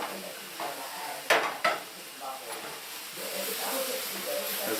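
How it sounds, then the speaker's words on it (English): Food in a frying pan being stirred, a continuous hiss of sizzling with two sharp clanks of the utensil against the pan near the middle, quieter scraping after, a voice faintly present underneath. "You give it a stir to see how it's doing."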